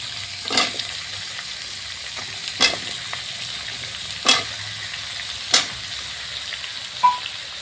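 Taro and meat frying in a pan, with a constant soft sizzle and about five separate stirring scrapes spaced roughly every one to two seconds, close up, no talking.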